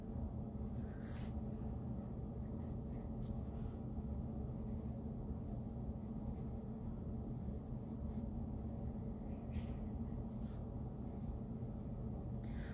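Pencil scratching a slow curvy line across paper, a soft continuous rasp with faint periodic strokes over a steady low room hum, quiet and close.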